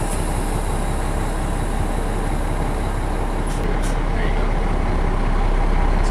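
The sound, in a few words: air brakes released on a truck towing an RV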